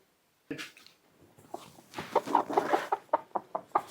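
A hen clucks repeatedly in short, rhythmic bursts, close by, growing louder and more insistent toward the end with no talking.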